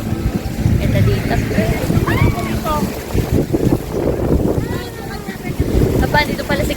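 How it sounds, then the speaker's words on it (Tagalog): Strong wind buffeting the microphone at Sulok Beach in General Nakar, Quezon, gusting and rumbling throughout, with surf in the background and people talking over it. "Mahangin dito."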